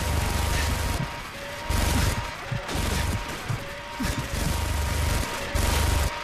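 Rapid bursts of automatic gunfire from a Call of Duty firefight, loud and close, firing in repeated volleys with short pauses between and clattering impacts throughout.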